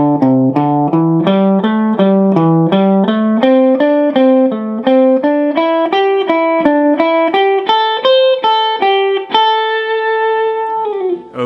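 An electric guitar plays a slow ascending pentatonic picking pattern, the notes climbing in a steady, evenly spaced sequence of distinct plucks before ending on a ringing sustained note, loud and clear with no talking.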